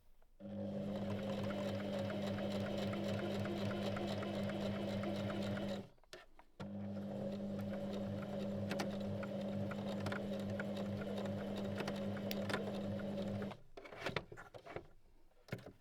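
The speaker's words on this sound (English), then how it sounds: "turn the fabric and sew to the end." A sewing machine stitches fabric for a rope belt, running in two long steady whirring stretches separated by a brief pause, close and even, ending with a few clicks and fabric handling.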